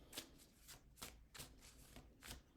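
Tarot cards being shuffled during a spirit-medium reading, heard as six quiet, evenly spaced riffling bursts of card flutter with near silence between them.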